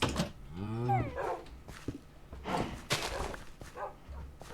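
Glitching dogs in a video game let out a rising whine, then barks and low growls in uneven bursts over a steady background hum, close and moderately loud.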